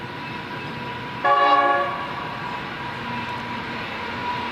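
A single short train horn toot sounds at a distance over a steady outdoor rumble, near a flock of sheep.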